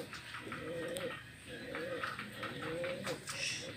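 Racing pigeons cooing in their loft, with several soft, repeated rolling coos at close range over a light background hiss and a few scattered clicks.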